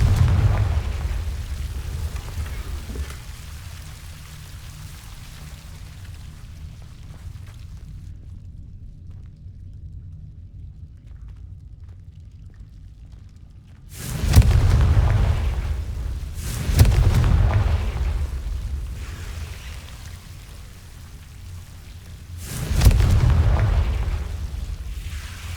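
Explosions from the Confringo spell in the game Hogwarts Legacy, fired in a dark underground area, with three loud booming blasts spaced apart after a long low ambient rumble, each fading into a rolling decay.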